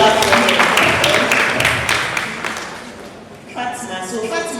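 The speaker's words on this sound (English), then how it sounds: "Please clap for him." An audience claps for a speaker at a girls' innovation and technology panel in Accra, Ghana: dense, loud applause that gradually fades, then voices come in near the end.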